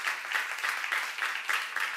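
A church audience claps during a sermon, a mid-distance spatter of many hands that swells in regular pulses, almost rhythmic, for a couple of seconds.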